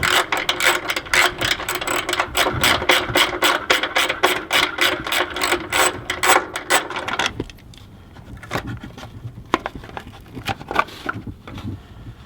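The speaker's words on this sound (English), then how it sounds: "we're going to remove this plastic cover here using a 12mm socket" A ratchet wrench with a 12mm socket loosens fasteners on a plastic cover inside a Toyota Tacoma frame, giving a fast, steady run of close clicks for about seven seconds before fading into quieter handling noises.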